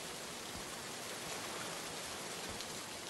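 Steady, dense rain falls without pause in the indie video game Tangles, set on an abandoned military base, forming a continuous wash of close patter with no voices.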